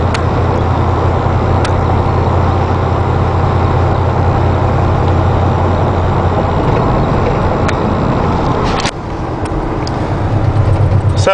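A Ford Club Wagon van fitted with a Braun wheelchair lift drives along, its engine droning loud and close, with a brief dip in level near the end as it changes gear.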